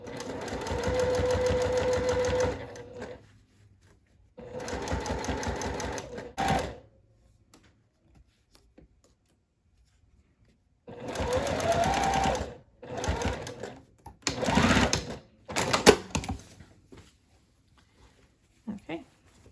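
A sewing machine stitches a placket onto a bodice front over a basting line, running in several loud close bursts of rapid mechanical chatter separated by pauses.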